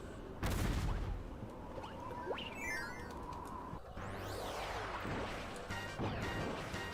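Kirby uses the bomb ability in Kirby Return to Dreamland, with loud crashing blasts and smashes layered over busy game music and sound effects, plus whistling, sweeping tones throughout.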